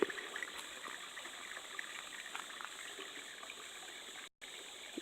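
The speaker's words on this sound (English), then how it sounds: "And water just flows on down." Water from a natural source pours and trickles in a steady, faint rush with no voices, broken by a brief gap near the end.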